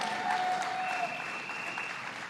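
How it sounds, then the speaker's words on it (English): A crowd applauds at a Bronx political rally for a $15 minimum wage campaign, steady dense clapping throughout with a faint voice briefly underneath. "Let's give him a round of applause, George Gresham."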